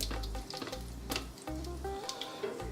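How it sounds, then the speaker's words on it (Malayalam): Mustard seeds and dried red chillies fry in coconut oil for a beetroot pachadi tempering, a steady close sizzle with scattered crackling pops throughout. "കടുക് പൊട്ടുമ്പോഴത്തേക്ക് അല്ലെങ്കിൽ മൂന്ന് വറ്റൽ മുളക് ഇട്ട് കൊടുക്കുന്നുണ്ട്"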